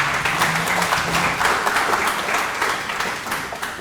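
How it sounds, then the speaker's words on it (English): An audience gives a sustained round of applause for Team Prastuta at a World Environment Day panel event, many hands clapping densely and evenly at moderate loudness. "A round of applause, please, for Team Prastuta."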